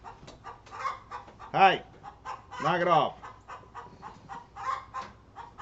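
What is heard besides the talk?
chickens clucking on a farm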